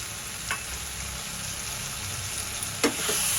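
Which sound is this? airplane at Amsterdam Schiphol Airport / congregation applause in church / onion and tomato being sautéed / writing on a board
onion and tomato being sautéed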